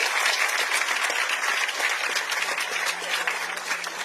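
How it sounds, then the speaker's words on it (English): An audience at a government energy event for hospitals applauds for the UK government, a dense sustained round of clapping from a crowd that keeps an even level for the whole stretch. "can you please clap for the UK government and say FTO?"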